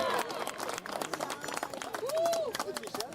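A crowd cheers and claps at a 2018 Division 4 boys varsity soccer championship game between West Rutland and Arlington Memorial, with a steady roar of voices and applause up close and a whistle-like tone rising and falling midway.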